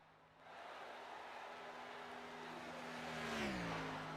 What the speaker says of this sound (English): Zach Workman in the 91 across the start-finish line, and Workman goes to 3rd place with his qualifying effort